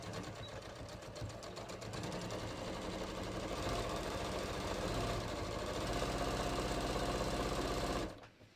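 A Janome Memorycraft 6700P sewing machine runs steadily, stitching jeans seams with a continuous fast mechanical whir and rhythmic needle clatter for about eight seconds before stopping abruptly.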